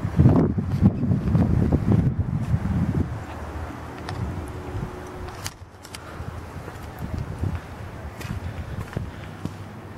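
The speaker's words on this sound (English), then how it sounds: "I can tell with the wind's already blowing pretty strong." Strong wind gusting outdoors at a house construction site, buffeting the microphone with low rumbling roar that is heaviest at first, then eases to a steadier, softer rush.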